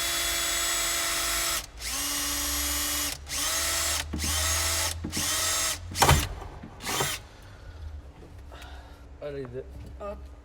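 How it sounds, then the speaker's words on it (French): A power drill fitted with a 3 mm bit bores a hole while installing a universal 7-pin towbar wiring harness, sounding as several loud close whirring bursts that start and stop, followed by fainter handling noises. "à l'aide d'une perceuse, une mèche de 3. On va venir faire un trou juste ici."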